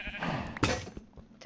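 Sheep bleating in the Minecraft video game: several short bleats over busy game noise, with a clearer, louder bleat right at the end.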